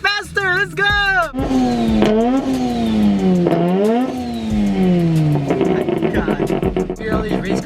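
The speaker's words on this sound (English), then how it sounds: "Hear all these race cars" Race cars revving and accelerating at a drag strip, loud rising and falling engine whines sweeping up and down one after another, with a V6 Mustang idling nearby.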